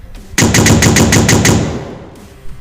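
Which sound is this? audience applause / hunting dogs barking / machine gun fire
machine gun fire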